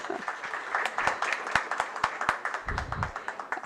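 A workshop audience claps in a loose, sparse patter of individual hand claps, moderately close, with a brief low murmur near the end.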